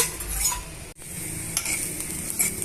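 Chopped vegetables for chapati rolls fried in ghee in a pan, a continuous close sizzle broken by a brief pause, with light utensil scrapes and clinks through it, no voices.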